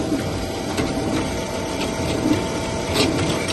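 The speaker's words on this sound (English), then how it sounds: "you just countersink your holes." A 3-flute center reamer countersinking holes in a knife blank, giving a steady grinding, whirring cut with faint rhythmic ratcheting pulses, close and moderately loud throughout with no talk.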